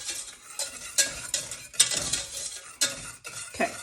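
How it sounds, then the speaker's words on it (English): Cornstarch and dry ingredients whisked together in a bowl for a lemon meringue pie filling, a near run of scraping strokes and light clinks against the bowl wall, uneven in rhythm with brief pauses. "whisk that up so that it doesn't create any lumps inside of here"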